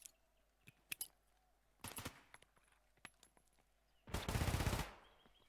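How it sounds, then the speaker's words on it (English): Bursts of MP7 submachine gun fire in a competitive video game match, a few short clicks and cracks early on, then a dense, loud sustained rattle of automatic shots near the end. "these MP7s rattle back and forth"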